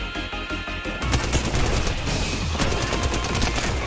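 Dense, loud rapid-fire gunfire from the video game Apex Legends, continuous bursts of automatic shots layered with impacts and game effects throughout, no talking.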